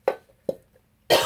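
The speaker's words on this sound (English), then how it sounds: "Stop to cough and then resume." Two short single coughs in quick succession, close and fairly soft, followed by a brief louder breathy burst, in a quiet room during candle chopping.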